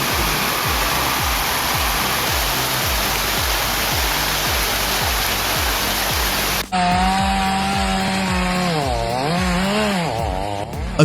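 A chainsaw cuts into timber during logging, with a loud, continuous rasping roar carrying rhythmic pulses, then shifting to a higher, wavering engine whine partway through, with no voices.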